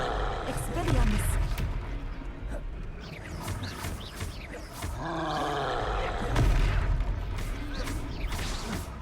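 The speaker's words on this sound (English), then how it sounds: "Goodness! A second troll!" A troll in Hogwarts Legacy lets out deep growling roars and grunts, loud and close, rising in two heavy swells amid crashing impacts, with voices speaking over parts of it.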